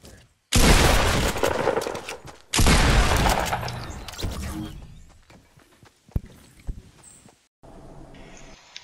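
Bursts of gunfire from the video game Fortnite, loud dense volleys that cut in sharply, pause, then trail off into scattered shots and impacts under a few faint voices.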